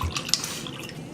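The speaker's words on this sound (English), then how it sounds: "I'm just gonna take some water out of my hydro jug and just fill this guy up." Water is poured from a large hydro jug into a cup in a home kitchen, a short, soft trickle and splash lasting about a second at close range, with no talking.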